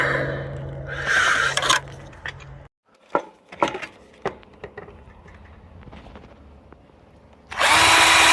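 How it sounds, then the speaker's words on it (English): A power drill whirs loudly in a couple of bursts while drilling holes for a car's external hood release, with scattered clicks and knocks in between, then starts up again at the end. "Sort out my drill holes now."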